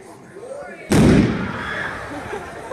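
A single sudden, loud hydrogen gas explosion bangs at a school science assembly, a sharp blast that rings out and decays over a couple of seconds in a large hall.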